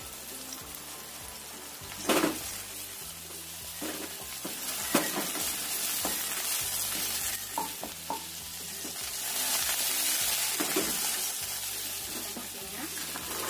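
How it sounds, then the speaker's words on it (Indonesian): Eggplant fries in hot oil in a pan, a steady crackling sizzle broken by sharp spatters and occasional stirring scrapes, with music playing underneath. "Kita goreng terong sampai matang atau agak kecoklatan."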